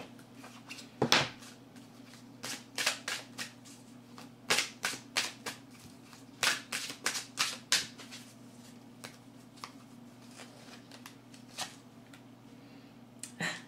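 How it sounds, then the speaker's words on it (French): Oracle cards are shuffled and drawn from an angel prayer deck, producing a series of quick, crisp slaps and flutters in uneven bursts over a low steady hum, close and fairly quiet. "je vous tire une carte dans l'oracle Prière aux anges pour terminer votre"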